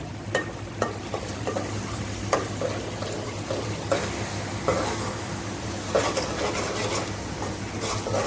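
Chana dal, garlic and curry leaves fry in hot oil for tomato chutney, a steady close sizzle broken by repeated scrapes and stirs of a spoon against the pan.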